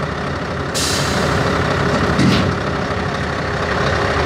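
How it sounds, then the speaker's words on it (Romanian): A show truck's pneumatic system releases with a loud burst of air, then a steady hiss and hum continue as the whole chassis unlocks and lifts, with a second brief air puff partway through. "alimentarea se face prin deblocarea prin sistem pneumatic a întregului șasiu, se ridică automat"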